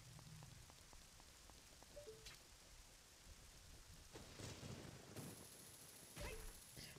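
Continuous rain in Zelda: Ocarina of Time 3D forms a faint steady wash, broken by several soft game sound effects and brief crackles layered over it.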